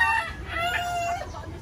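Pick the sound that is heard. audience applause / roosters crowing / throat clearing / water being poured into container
roosters crowing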